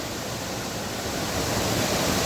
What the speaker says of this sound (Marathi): बघा किती पाणी आहे फोर्सने